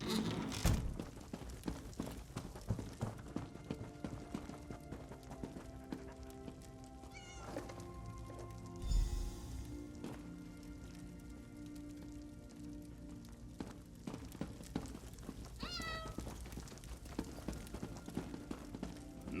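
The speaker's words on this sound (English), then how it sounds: "Not another cat." Cat in Elder Scrolls Online at Fort Amol: several distinct meows spread across the clip, with clip-clop footsteps and a rain-like patter, and no speech.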